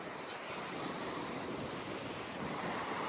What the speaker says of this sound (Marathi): समुद्र खवललाय हल्ली